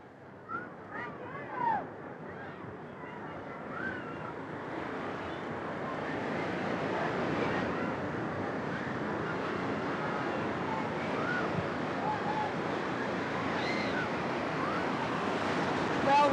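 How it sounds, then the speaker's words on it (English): Surf rolling in at the Big Surf desert wave pool in Tempe, Arizona, with waves averaging three to four feet, a steady broad wash of breaking water and wind that builds slightly and holds loud throughout. "We're here at Big Surf today, and the waves are averaging about 3 to 4 feet"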